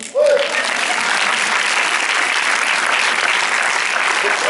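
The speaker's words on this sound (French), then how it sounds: "donc bravo, on s'applaudit" A film-premiere audience in a cinema applauds after meeting the cast and crew, a dense sustained round of clapping that begins abruptly and holds steady throughout.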